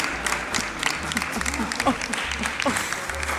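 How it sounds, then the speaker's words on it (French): Applause rings out over a noisy background with a steady low hum, a dense patter of claps of moderate loudness sustained throughout, with some voices or crowd murmur mixed in. "Ça, c'est Claude qui applaudit."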